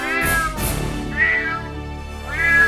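Several cat meows, one after another, close and clear with short pauses between them, heard alone and opening a Hindi women's series.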